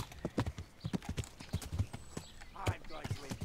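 Horse hooves clip-clopping in the video game Kingdom Come: Deliverance, a steady rhythmic series of close hoofbeats with scattered voices talking over them.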